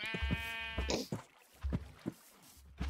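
Sheep bleating in the video game Minecraft, a loud wavering bleat at the start followed by a scatter of short dull thuds and clicks, with no speech over it.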